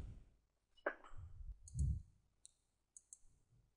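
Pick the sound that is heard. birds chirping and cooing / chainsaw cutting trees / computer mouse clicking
computer mouse clicking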